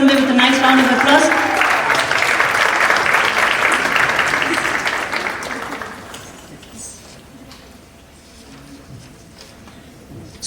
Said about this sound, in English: Please welcome them with a nice round of applause.